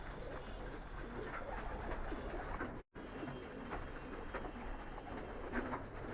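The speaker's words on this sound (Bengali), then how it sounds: "ম্যাক্সিমাম কবুতর দেখেন নেমে গেছে" Pigeons at a loft during training, soft cooing and bird calls over a steady outdoor hiss, with a brief dropout midway.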